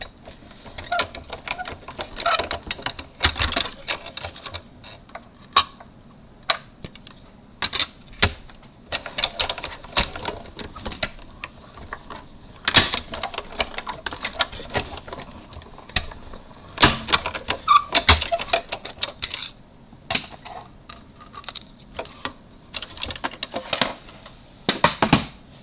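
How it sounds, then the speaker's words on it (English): A manual die cut machine cranked with card stock passing through, a long run of close, dense ratcheting clicks and crunchy mechanical taps in an uneven rhythm, no talking. "I'm going to run it through my die cut machine."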